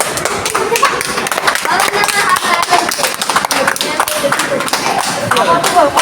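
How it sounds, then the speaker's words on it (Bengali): People clap their hands loudly and rapidly at an interactive science city exhibit, sharp repeated claps in a dense irregular stream, mixed with voices talking in the background. "হাততালি দিলে পুরোটা জ্বলবে পুরো লাইট জ্বলবে"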